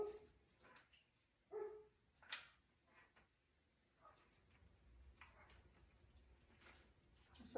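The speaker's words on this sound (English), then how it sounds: "There go the dogs." Several dogs bark in short scattered bursts at a distance in an outdoor setting, faint and intermittent over low background rumble, with no talking.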